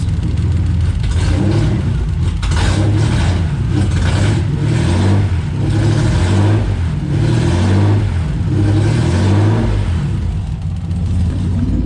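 A Ford Scorpio Mk1 2.9 Cologne V6, with no exhaust fitted and unused for about 15 years, revs repeatedly in uneven bursts, with a raw, unmuffled roar and a deep rumble underneath.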